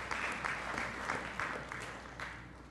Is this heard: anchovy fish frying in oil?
no